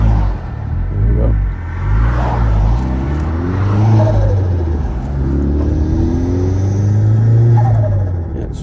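Vauxhall Astra VXR with switchable engine maps, heard from inside while it accelerates through morning traffic in third gear: a loud, low engine drone rising and falling in pitch, with brief voice beneath.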